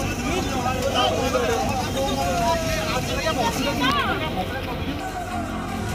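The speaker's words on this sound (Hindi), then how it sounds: "प्रदर्शनकारियों की भीड़ में फंसे लोग।" A dense crowd of protesters at a demonstration against the Agnipath scheme in India, a continuous loud babble of many overlapping voices with shouting, close and unbroken throughout.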